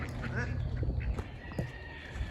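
Several ducks quack in quick, overlapping bursts nearby, with soft rustling underneath.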